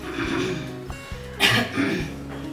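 A person coughs forcefully, close and fairly loud, in a choking first-aid demonstration. A few short bursts stand alone without speech.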